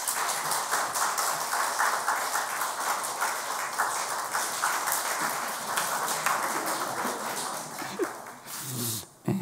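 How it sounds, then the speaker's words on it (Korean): Church congregation clapping together in a sustained burst of applause filling the room for several seconds, then tapering off near the end. "우리 박수 한번 하시죠."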